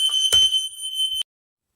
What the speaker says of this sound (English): The smoke detectors went off because I'm upstairs, but something was cooking downstairs